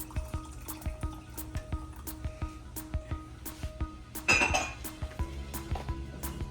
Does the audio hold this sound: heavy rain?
no